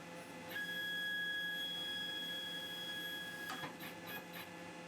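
A TTC450 Ultra CNC router drives its axes during a systems check, giving steady high stepper-motor whines over a constant mechanical hum, with a few short clicks near the end and no speech.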